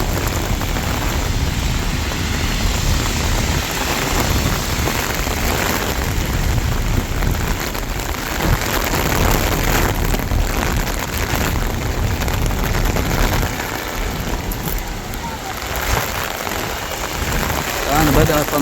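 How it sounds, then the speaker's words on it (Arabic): Heavy rain pours steadily over Mecca around the Grand Mosque on a Sunday afternoon, a dense continuous wash of noise that holds near-constant loudness throughout. "والآن بدأت أمطار غزيرة"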